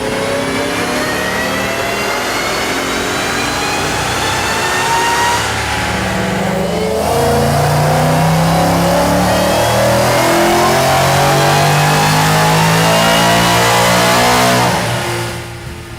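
A 2015-or-later Ford Mustang with a Kooks aftermarket exhaust revs hard, its loud, deep engine note climbing and falling through repeated throttle blips for about fifteen seconds with no talking.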